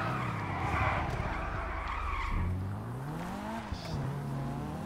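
Car engine revving with loud skidding and squealing tyres in the heist game GTA V, continuous and close, the engine pitch rising and falling as the car swerves.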